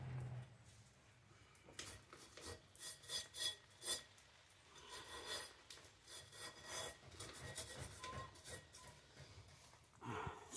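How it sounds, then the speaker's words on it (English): A dog moans and whines in the background during rainy outdoor work on a 1969 Morris Minor 1000, mixed with closer rasping, rubbing cleaning sounds and uneven bursts of noise. "Sorry about the noise in the background, my dog's moaning."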